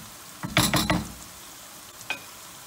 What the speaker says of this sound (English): give it a couple of minutes until the onion really start sweating